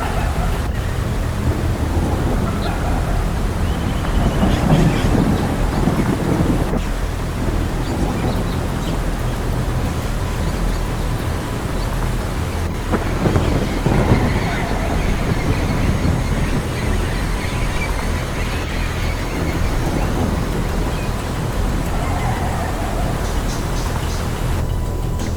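Heavy rain pours steadily across the South African savanna of Kruger during a thunderstorm, a dense continuous wash of noise with low rumbling swells and gusty wind, loud and unbroken throughout.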